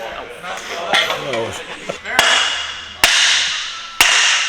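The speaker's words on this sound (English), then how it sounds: "I'll hit it with the Gator hammer." Three sharp, loud metallic hammer strikes on a Nissan 350Z ball joint land about a second apart, each ringing briefly, following voices talking.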